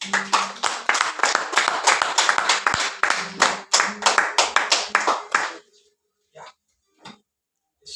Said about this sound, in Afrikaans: Kom ons gee julle 'n hande klap.